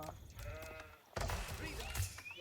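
Sheep bleating in the strategy game Age of Empires IV, several short wavering bleats under game background noise, with a busier stretch of overlapping bleats and effects in the second half.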